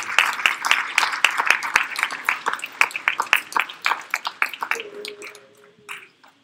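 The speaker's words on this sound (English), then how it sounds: "Give yourselves a round of applause" A small audience at a parenting talk claps in sparse, distinct individual hand claps that thin out and fade, with a brief voice near the end.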